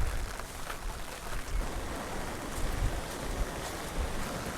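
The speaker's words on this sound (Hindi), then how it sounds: "ये वाटरफॉल काफ़ी बड़ा है" A large waterfall at Bhandardara hill station in Maharashtra produces a continuous broad roar of falling water, with gusts of wind buffeting the microphone at a steady, moderate level.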